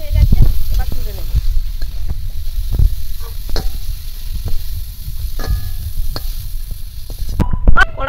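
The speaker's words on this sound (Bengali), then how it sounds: "কড়াইতে চিংড়ি মাছগুলো ভেজে নিয়েছি, সেই তেলের মধ্যে আমি আবারও তেল দিয়ে দিলাম" Oil sizzles loudly and continuously in a wok after shrimp have been fried in it, with scattered crackles, pops and clinks of utensils close by throughout.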